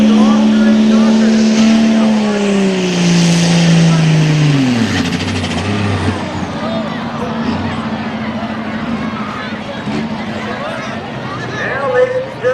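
A pulling tractor drags the sled at a 2026 tractor pull, its engine roaring loudly and then dropping sharply in pitch as it bogs down. Crowd noise and a commentator's voice carry on underneath.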